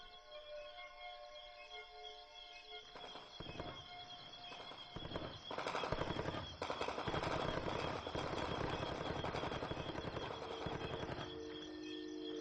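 Gunfire at night in Rwanda crackles through a steady low drone, with rapid bursts and sharp shots that build in density and grow louder toward the middle, sounding distant and rough.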